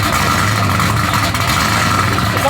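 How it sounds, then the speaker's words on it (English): A stock 5.3 V8 truck engine with a supercharger runs at a steady, close idle with a low, even rumble throughout the short stretch. "It sounds like an NA motor."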